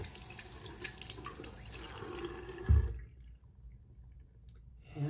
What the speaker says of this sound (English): So I'm going to put a little more water in here.